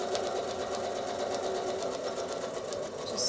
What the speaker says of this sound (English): now I'm going to travel stitch into this space